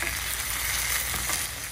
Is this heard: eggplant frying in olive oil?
yes